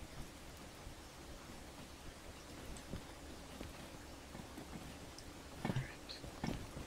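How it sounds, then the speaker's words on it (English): Steady rain falls in the train game Derail Valley, a faint, even hiss that runs throughout, with a couple of slightly louder bumps near the end and no talking. "Oh, it's raining."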